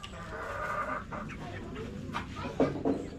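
Chickens clucking nearby in a steady, soft backyard chorus, with a few louder, sharper clucks near the end and no voices over them.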